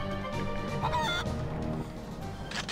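A bird squawks and clucks in the Dreamcast beat-'em-up Dynamite Cop 2, a short fowl-like cry rising over busy game music and effects.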